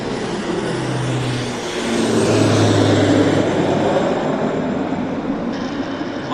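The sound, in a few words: Beechcraft King Air turboprop plane landing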